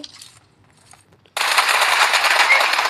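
Rapid automatic M4 rifle fire in a shooter video game, starting abruptly after a quiet moment and continuing as a loud, dense burst to the end.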